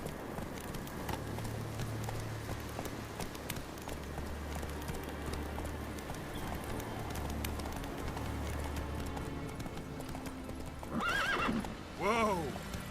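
Roach, a horse in The Witcher 3, gallops with continuous rapid clip-clop hoofbeats, close and steady throughout, then near the end gives a couple of loud whinnies while a voice speaks briefly.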